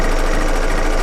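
A Bernina L890 serger stitches fabric for a quilt, set up for a quarter-inch seam, giving a loud, steady, close mechanical whir with a fast rhythmic knock, running continuously without pause.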